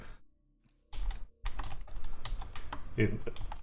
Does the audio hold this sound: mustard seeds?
no